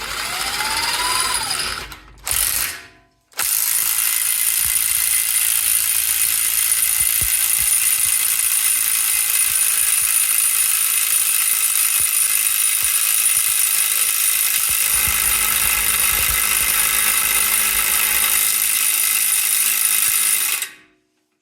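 A pneumatic air impact gun hammers continuously on the transfer box bolts of a Range Rover Evoque, loud and close, after a couple of short opening bursts. The rattling runs for nearly twenty seconds without a pause, with no talking.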